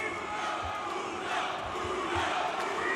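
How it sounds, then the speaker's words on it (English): A large wrestling crowd at the Cow Palace roars and cheers continuously, a dense sustained wash of voices heard at a distance. "The crowd here at the Cow Palace solidly behind Evil Uno."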